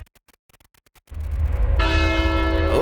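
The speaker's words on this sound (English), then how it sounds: "The bells are ringing." Ticking and clicking give way to a loud, resonant clang of church bells in a bell tower, with ringing overtones that swell and sustain to the end.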